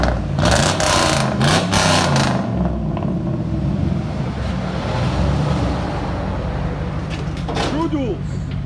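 A 2003 Cadillac Escalade V8 with true dual exhaust revs under throttle, a loud, continuous rumbling drone with a rising and falling pitch, heard close up while a voice speaks over it.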